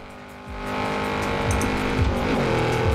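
A Lamborghini Urus SUV in Forza Horizon 4 revs its engine hard, climbing through repeated upshifts with a loud, close, continuous roar and no talking.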